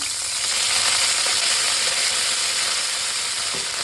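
Garlic cloves frying in a spoonful of ghee in a pan give off a loud, steady, bright sizzle that holds without a break from start to finish, with faint stirring clicks heard now and then.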